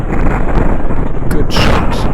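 Gunfire and explosions in the video game Ravenfield, a dense continuous battle din with booming low rumble and a sharper burst late on, loud and unbroken with no clear single shot standing out.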